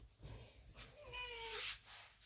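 A pet cat meows indoors in a drawn-out, rising and falling call, fairly close and alone, with faint room noise and a brief soft snort-like sound before it.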